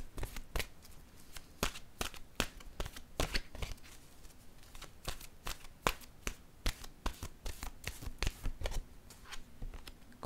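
Tarot cards being shuffled by hand, a steady run of crisp riffling snaps and soft slides, close and fairly quiet, with no talking.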